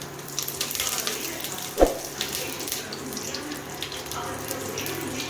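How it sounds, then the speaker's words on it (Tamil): Mustard seeds and curry leaves crackle in hot oil for a chana dal chutney, a continuous soft hissing sizzle with scattered small pops and one sharp louder burst early on. "கடுகு பொரிச்சு வந்த உடனே கருவேப்பிலை போடணும்"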